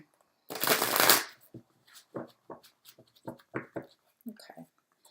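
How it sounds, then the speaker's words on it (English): A thick tarot deck is shuffled in one loud close riffle burst, then a series of quieter card taps and flicks follow, with faint voice under them. "So it's kind of a rougher deck to shuffle."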